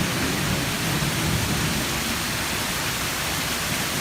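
Heavy rain pours down beside a waterfall outdoors, a dense, steady roar of hiss and rumble that stays loud and unbroken throughout, with no voices.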